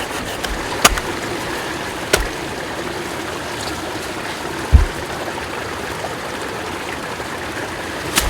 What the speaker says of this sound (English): Right below this waterfall, I made a little pool.